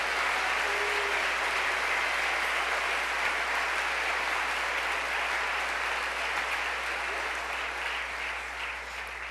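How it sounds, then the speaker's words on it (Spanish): A church congregation claps loudly and continuously in a thick, even roar of applause that holds steady for several seconds, easing only slightly toward the end. "Vamos, apláudale con fuerza al Señor."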